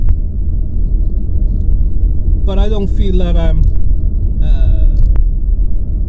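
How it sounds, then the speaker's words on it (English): Ford Mondeo 1.5 EcoBoost at speed, a low, steady engine and road rumble filling the cabin while someone talks over it. "You can hear the engine."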